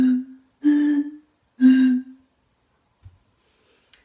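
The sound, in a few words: blowing across the tops of glass bottles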